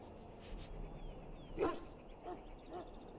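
A Mabari war hound in the Dragon Age: Origins video game, sick after swallowing darkspawn blood, lets out a short whimpering whine midway through, quiet over a low background hum.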